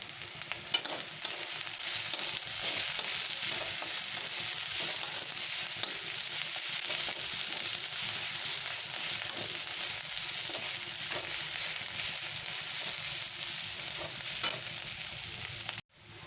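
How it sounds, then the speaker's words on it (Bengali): Onion, garlic and slit green chillies fry in a pan for jute-leaf greens, giving a steady, close sizzle with occasional stirring clicks throughout, ending abruptly. "পেঁয়াজ রসুনটা ভাজা হয়ে গেছে"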